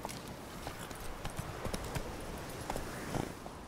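Hooves of Roach, a horse in The Witcher 3, clip-clop at an unhurried walking pace. The steady, faint, evenly spaced footfalls continue throughout against a soft ambient background.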